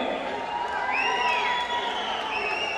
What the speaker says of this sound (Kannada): ಬಲಿ ಜೋರಾದ ಚಪ್ಪಾಳೆ ಸ್ನೇಹಿತರೆ